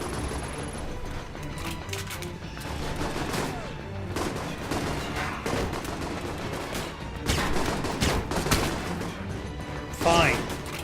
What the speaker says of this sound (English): You guys better not be shooting at me.